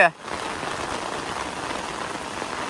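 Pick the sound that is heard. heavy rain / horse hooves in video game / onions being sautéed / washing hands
heavy rain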